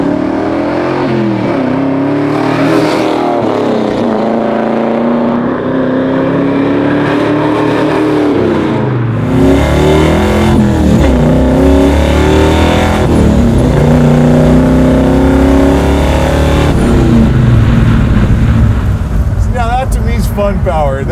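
A big-block 1970 Chevelle with a 5-speed manual accelerates, its engine droning and rising in pitch through gear changes, loud and steady beneath conversation inside the car.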